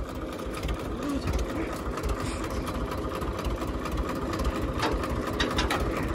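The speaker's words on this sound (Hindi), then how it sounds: "ये ट्रैक्टर आयसर 335 ट्रैक्टर का नाम है इसका" An Eicher 335 tractor engine runs steadily at a brick kiln, a dense, even, rattling drone heard close and continuously with no pauses.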